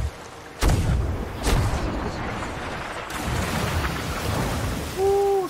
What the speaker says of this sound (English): Oh nope, they're manning the guns.